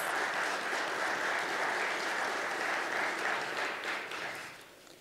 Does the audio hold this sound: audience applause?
yes